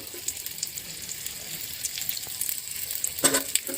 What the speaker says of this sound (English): we are going to add the sliced onion. Just fry them until it is slightly golden brown